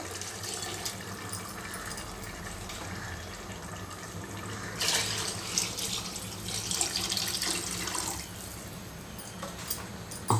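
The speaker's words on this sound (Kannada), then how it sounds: "ಮಿಕ್ಸಿ ಜಾರ್ಗೆ ನೀರು ಹಾಕಿ ಹಾಕ್ತಾಯಿದ್ದೀನಿ" Water runs steadily from a tap into a mixer jar, a continuous splashing stream that grows slightly louder and busier midway, with no talking.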